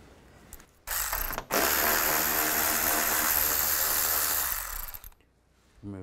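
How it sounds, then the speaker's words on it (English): A ratchet wrench with a 10 mm socket backs out bolts on a 2011–2015 Chevrolet Cruze during radiator removal, a close, loud, continuous run of rapid clicking lasting about four seconds, then stopping. "on both sides, you want to take these bolts out. Use a 10 millimeter socket."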